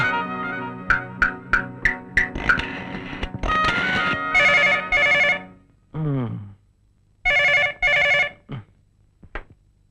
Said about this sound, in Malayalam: ബാലകൃഷ്ണ നീ ഈ ഫോണൊന്ന് വിളി